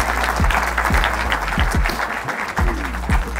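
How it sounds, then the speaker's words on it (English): A room full of people claps steadily and loudly after a talk on innovation, a dense wash of applause with no voices over it. "Another quick round of applause, guys"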